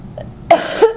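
A single close, sharp cough bursts out, followed by a quick throaty catch, brief and loud against near silence.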